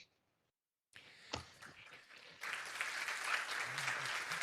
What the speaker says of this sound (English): I hope you can hear the clapping from the room.